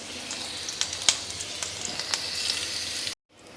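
Eggplant rings frying in hot oil in a pan, with a steady close-up sizzle and scattered sharp crackles and pops. The sizzle cuts out briefly near the end and then comes back.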